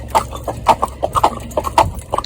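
Cloudy, a one-eyed schoolmaster horse, walks with clear, close hoof clip-clops in an uneven rhythm, about a dozen strikes over a couple of seconds.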